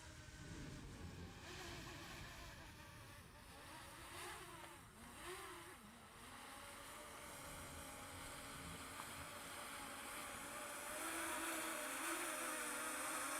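An Autel Nano+ drone flies in to land on dirt outdoors, its steady faint propeller whine holding throughout and growing slightly louder and brighter toward the end as it nears, with no talk.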